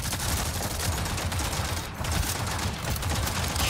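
A mine launcher fired in Avatar: Frontiers of Pandora, a dense, continuous roar of rapid blasts and explosions with barely a lull, loud throughout.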